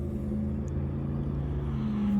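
A race car engine runs close by with a steady, droning hum and a faint rise in level toward the end, heard alone without talk.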